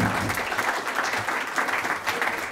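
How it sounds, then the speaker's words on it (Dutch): Warm audience applause at a Dutch mobility talk show, a moderate, continuous patter of many hands clapping with slight surges, heard at some distance and fairly soft. "Mag ik hartelijk applaus voor Timo Idema en Bert van Wee."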